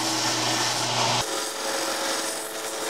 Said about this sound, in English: And shape it a little more with a belt sander.